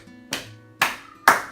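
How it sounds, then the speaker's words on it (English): Three sharp percussive body hits from a warm-up exercise, knee slaps followed by hand claps, spaced about half a second apart, close and clear with quiet gaps in between. "slap, clap, clap."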